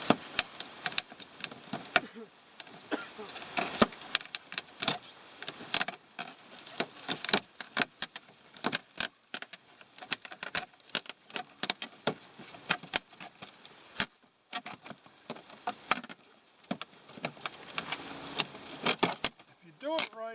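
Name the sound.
zipping vinyl siding panels together with a zip tool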